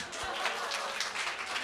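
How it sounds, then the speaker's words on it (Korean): Audience clapping at a talk, a soft, dense patter of many hands blending into a steady wash, faint and distant with no voices over it. "여러분, 이럴 때 박수."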